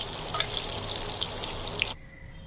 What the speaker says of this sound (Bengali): আমার সবগুলো ফুলকপি ভাজা হয়ে গেছে। এখন আমি সবগুলো তুলে নিচ্ছি।